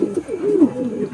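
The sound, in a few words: pigeon cooing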